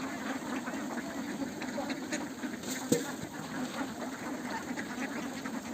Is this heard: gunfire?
no